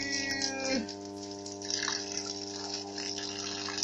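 A pump draws water out of a borehole pipe at a well site near Lviv, producing a steady mechanical hum with gushing, splashing water over a persistent low drone.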